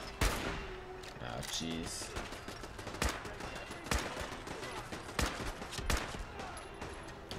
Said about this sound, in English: I guess let's just hit him with some sniper bullets.